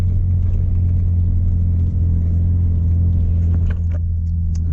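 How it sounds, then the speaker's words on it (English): A Porsche 944 drifts on snow and ice with a steady, loud, low engine drone heard from inside the car, with faint scraping and crunching from the tires late on. "Can at least drift a little bit."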